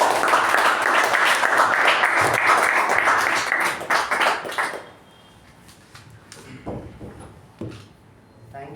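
An audience applauds at a Toastmasters club meeting to welcome a speaker: dense, steady clapping fills the first five seconds, then trails off into scattered claps and room noise.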